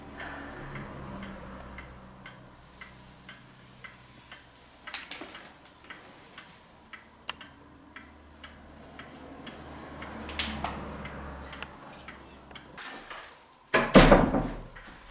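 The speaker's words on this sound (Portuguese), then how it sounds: "E o último espaço temos o relógio antigo, que é preciso dar corda." An antique wind-up clock in a museum room ticks steadily and softly in a slow, even rhythm, with a louder thump and rustle near the end.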